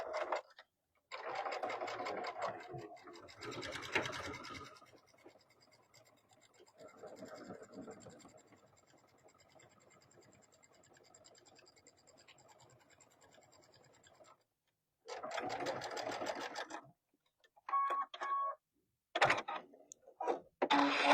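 A sewing machine stitches a mesh tote bag pocket in bursts, with loud close runs of rapid mechanical whirring broken by pauses and quieter handling between stretches of sewing.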